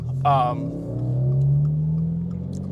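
A 2022 Subaru WRX engine runs with a smooth, low steady hum that rises slightly in pitch, heard up close with a brief higher tone near the start.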